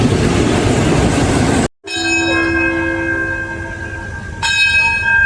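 Thai local diesel train 447 on the Surat Thani to Sungai Kolok line pulling away from a station: a loud rumbling run cuts off, then a steady ringing bell-like tone with rail hum, joined by a second tone near the end.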